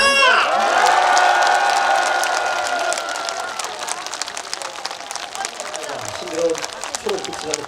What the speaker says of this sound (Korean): 박수 함성